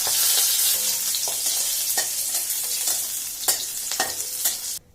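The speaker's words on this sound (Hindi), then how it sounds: "ओकरा बाद ई लहसुन अछि से दऽ रहल छियै।" Loud, steady sizzling of garlic and chilies frying in a hot pan, with occasional stirring scrapes, then sudden quiet at the end.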